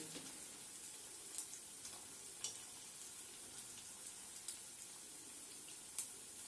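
Malai kofta made of paneer, potato and khoya frying in oil, a steady soft sizzle with faint crackles and small pops throughout, no voices.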